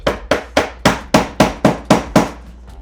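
A mallet knocks a reptile habitat enclosure part down with nine firm, regular taps, close and solid, then stops.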